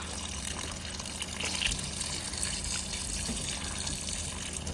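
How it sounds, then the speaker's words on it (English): Fresh water drains from the tank drain point of a 2024 Auto-Trail Frontier Delaware motorhome, a steady, faint gushing trickle that runs continuously and alone. "when you are draining your fresh water tank off, just twist this cap"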